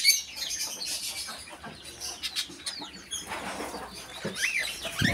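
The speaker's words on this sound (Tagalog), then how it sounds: "Magagandang mga ibon." Birds in an aviary give off busy chirps and tweets with wing flaps and occasional fowl-like clucks, fairly close, continuous over light background noise.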